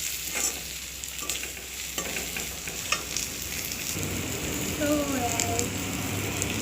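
Cumin, green chili, panch phoron and jaluk stir-fried in hot oil in a home kitchen, giving a crackling sizzle with a few utensil scrapes, close and continuous, with no talking.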